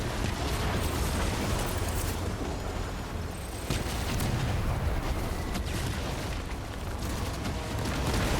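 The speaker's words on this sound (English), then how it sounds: "Okay, lots of explosions." Dense, continuous barrage of booms and blasts from tanks and combat in the video game Death Stranding, explosions overlapping loudly with crackling bursts throughout.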